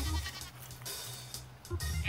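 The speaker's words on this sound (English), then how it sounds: "there's another sheep in the garden" A sheep in a backyard garden gives a few short bleats at moderate distance, with quiet pauses between the calls and no speech.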